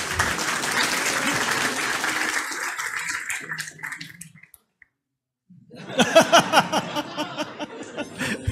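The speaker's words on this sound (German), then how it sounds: "Ein Applaus für Micha." Audience applause at the opening welcome of the Jugend hackt MV 2018 youth hackathon in Schwerin: dense, steady clapping for about four seconds that fades to silence, after which a voice begins speaking.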